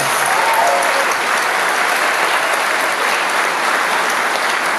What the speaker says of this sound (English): Would you please give a round of applause to Diane Gray?